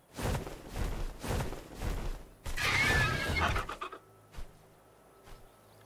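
A horse in the video game ARK Fjordur snorts and whinnies in short, close bursts, with a louder breathy neigh midway and quieter hoof-like thumps after.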